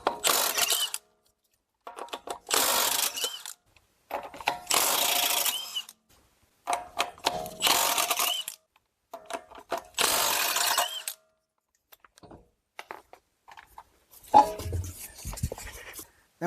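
A ratchet loosens 20 mm lug nuts on a Chrysler Town and Country or Dodge Caravan wheel, heard as repeated loud, close ratcheting bursts with brief pauses and some clanking toward the end.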